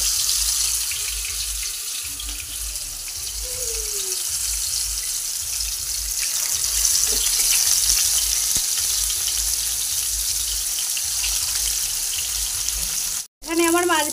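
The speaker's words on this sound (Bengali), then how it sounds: "এবার মাছগুলো আমি একে একে তেলের মধ্যে দিয়ে ভাজা করে নিই।" Fish pieces rubbed with salt and turmeric fry in hot oil, giving a steady, close, even sizzle that runs unbroken, with a brief drop near the end and no talk.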